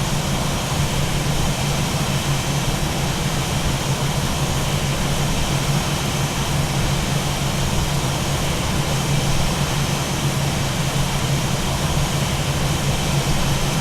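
Airbus A320 jet engines spooling down to idle during landing rollout on the runway, a steady, loud broadband roar with a low hum that holds constant throughout, with no talk.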